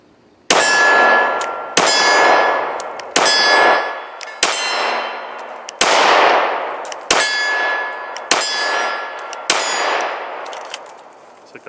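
Eight sharp metallic clangs from 9mm Smith & Wesson M&P Shield 2.0 rounds striking a steel target, evenly spaced, each ringing loudly and decaying before the next.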